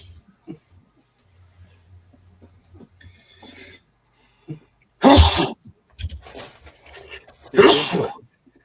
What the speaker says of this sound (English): Sounds like somebody's got these sneezes.